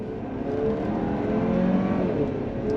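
A 2024 GMC Acadia AT4 SUV accelerates hard on throttle, its engine note rising in a steady, loud, continuous drone heard from inside the cabin with no talking.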